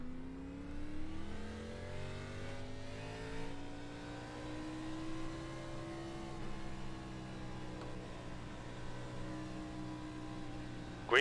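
NASCAR Cup Series stock cars in iRacing at Darlington Raceway roar as they accelerate together at the green flag, a dense, steady wall of rising engine tones held loud and close for the whole stretch.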